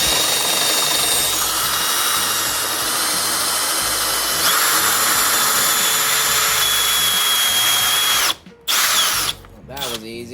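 Power drill driving a screw to tighten a wall shelf in a garage, a steady loud whine running for about eight seconds, then cutting out with brief pauses and short bursts near the end.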